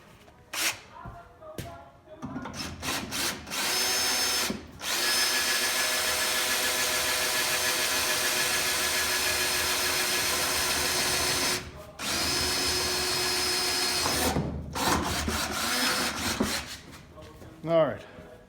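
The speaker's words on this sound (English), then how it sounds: "So now I'll change it over to the quarter, and we'll drill out some holes" A power drill with a quarter-inch bit drilling holes in a Peterbilt 359 roof cap whines at steady high speed in long sustained bursts, stopping briefly between holes, loud and close with no speech.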